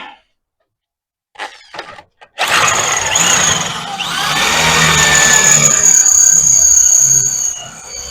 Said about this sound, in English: Gonna have to drill that one as well,